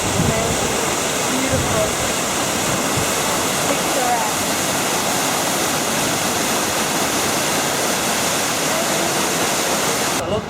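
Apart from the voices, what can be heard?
waterfall seen from the top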